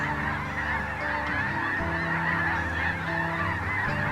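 A large flock of snow geese mixed with some Ross's geese honks continuously, a dense chorus of overlapping calls filling the air at a steady distance.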